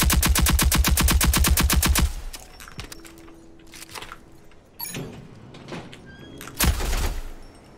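Rapid turret gunfire rattles in a fast, even automatic burst for about two seconds in a PvP video game, then gives way to scattered impacts, mechanical sounds and a final loud blast.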